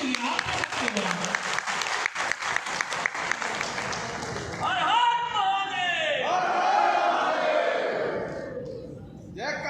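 A crowd at a Hindu organization's rally in Jammu and Kashmir claps in a rapid, dense burst that gives way to loud shouting and chanting voices, building and then fading.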